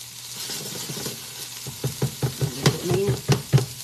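An egg sizzles in a pan as it is stirred, a soft hiss broken by a run of regular scraping strokes that grow louder and more rhythmic toward the end.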